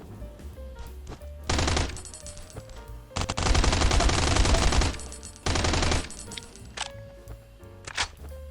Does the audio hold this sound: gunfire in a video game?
yes